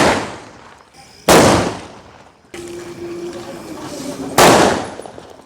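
Firecrackers burst during a Diwali celebration, two loud sharp bangs each trailing off into a long rumbling decay, with a hissing, crackling stretch between them, close by and outdoors.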